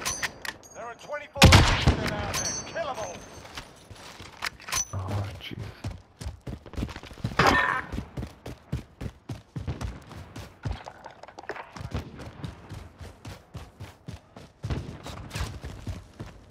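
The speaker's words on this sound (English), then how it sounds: "There's a guy up there shooting." Gunfire from an enemy up on a cliff in Call of Duty: Modern Warfare, heard as a loud burst followed by scattered shots and thuds that continue, with players talking over them.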